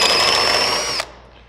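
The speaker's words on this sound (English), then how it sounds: "I also found you got to keep the speed of the drill up" A power drill whines at high speed close by while cutting a hole in an Aston Martin DB9, steady for about a second before winding down and fading away.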